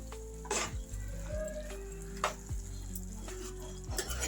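Bottle gourd curry being stirred in a pan, with soft scraping strokes and a few sharper utensil knocks over a steady low sizzle of oil, close and fairly quiet.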